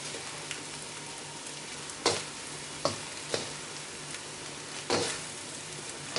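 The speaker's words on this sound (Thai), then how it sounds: "ตอนแรกก็คือผัดไฟกลางนะคะตอนนี้เร่งไฟนิดนึงนะคะ" Instant noodles stir-fried with tomato and spring onion over a flame turned up from medium, a steady sizzle filling the pan with several sharp clacks of a utensil scraping and tossing, no voices.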